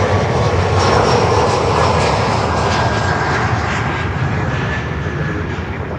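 An Embraer 175 jet arriving from Key West roars steadily and loudly nearby, a broad continuous engine rumble with a faint high whine that eases slightly toward the end.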